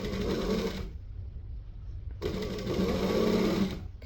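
A sewing machine stitches apron straps in two steady bursts of rapid mechanical whirring, separated by a short pause, running close and loud with no voices.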